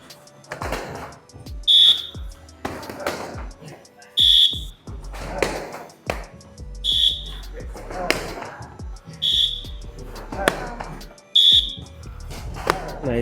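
During taekwondo sparring drills, an electronic timer gives five short, sharp, high beeps at regular intervals of about two seconds. A coach talks between them, and feet thud on the mat.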